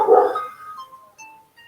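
A pet dog at home gives one loud, close bark that trails off into a fading whine, followed by faint ringing tones.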